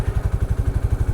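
A Hero Xtreme 160R 4V motorcycle rides along in third gear at low speed, its engine giving a steady, close, throbbing low pulse with a regular beat and no voices over it.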